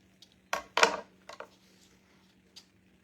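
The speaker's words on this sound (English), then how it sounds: "I'm just cutting this for fringe, y'all. Cutting it down right now for fringe." Scissors cut yarn fringe for a dollar-store craft snowman in a few close, short snips with gaps between, ending in a lighter cut.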